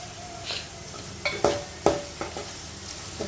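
Tempering spices sizzle and pop in hot oil for a tomato chutney, with several sharp clanks of a spoon stirring against the metal pan, close and with no speech.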